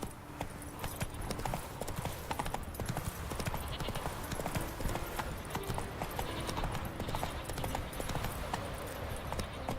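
Roach, the horse in The Witcher 3, gallops with rapid rhythmic hoofbeats over a continuous game ambience, with a faint whinny mixed in.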